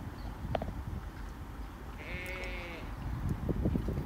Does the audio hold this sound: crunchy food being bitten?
no